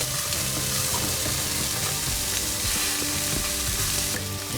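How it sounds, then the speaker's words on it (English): Boneless Indian chicken thigh skewers sizzle steadily on a smoky barbecue grill, a loud continuous crackle and hiss that runs the whole time without any talk. "might be cooking it wrong, but it does seem juicy and grilled and smoky"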